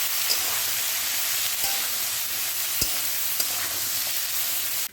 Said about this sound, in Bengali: একটু হলুদ আর একটু নুন দিয়ে আমরা এসে আলুটাকে ভেজে নিচ্ছি